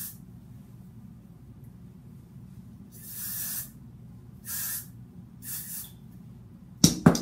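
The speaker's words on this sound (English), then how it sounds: "spray this right on top of where I put the gel" Three short hissing bursts from a spray can of hair product onto a lace wig, evenly spaced over a quiet background, followed by a sharp clatter at the end.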